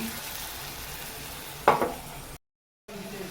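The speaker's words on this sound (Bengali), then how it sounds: "লঙ্কাটা ভালো করে ভেজে নিচ্ছি" Steady hiss of chilies frying in oil, with a brief louder crackle burst midway, then a short dropout of total silence before the sizzle resumes.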